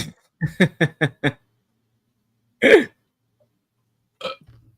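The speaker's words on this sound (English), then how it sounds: "I'll belch for you." A loud, drawn-out belch rises after a quick run of short voiced bursts, followed by a brief vocal sound and quiet rumble.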